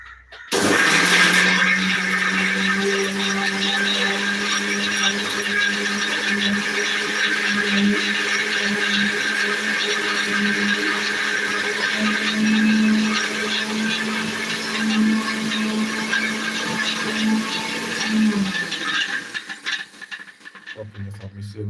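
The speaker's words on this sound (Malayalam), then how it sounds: "അടച്ചിട്ട് നമുക്ക് മിക്സിലോട്ട് വെച്ചെടുക്കാം" Mixer grinder grinding masala for a toddy-shop style tuna fry, a loud steady whirring motor drone running for about eighteen seconds before winding down, with faint voice in the background.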